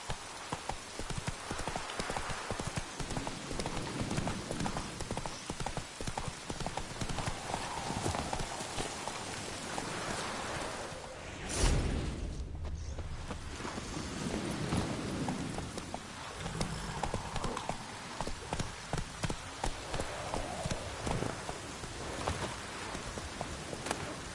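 Horse hooves clip-clop steadily in the Witcher 3: Wild Hunt video game, a brisk rhythmic gait running close and continuous, with a brief heavier thump midway and faint rain-like patter behind.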